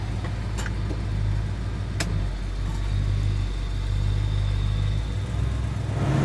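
A 1969 Plymouth GTX 440 pulling away and driving: a deep, steady engine drone with mild swells as the revs change and a couple of faint clicks, heard close from inside the car.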